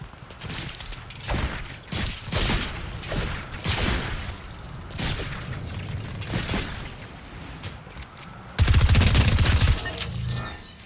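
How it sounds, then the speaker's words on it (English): Gunfire in the Fortnite video game, repeated bursts of shots and impacts spread across the clip, with a louder, denser volley near the end. "They're trying to shoot me at least"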